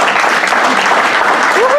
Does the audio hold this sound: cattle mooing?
no